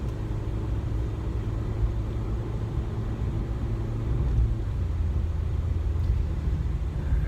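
A small Toyota car cruising on a road gives a continuous low engine and road rumble from inside the cabin, steady and moderately quiet, with no voices over it.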